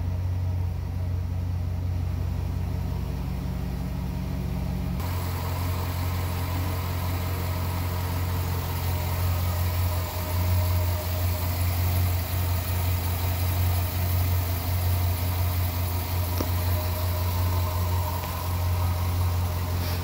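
A 2009 GMC Sierra pickup with a 4.8 V8 idles steadily, a low constant rumble running unbroken from start to finish, close and fairly loud with no talk over it.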